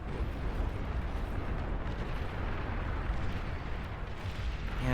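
Artillery shells fire during a large 16-versus-16 battle in the real-time strategy game Beyond All Reason, a dense rumbling wash of distant blasts blending into a continuous roar with no clear gaps.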